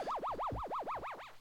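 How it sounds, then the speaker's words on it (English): Space Invaders-style arcade UFO sound: a steady warbling siren of nine rapid rising-and-falling sweeps, loud and alone, repeating about every fifth of a second. "that was the UFO"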